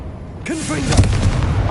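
A Confringo blast spell explodes in the Hogwarts Legacy video game, a loud fiery burst that sets off a rumbling, crackling roar lasting more than a second.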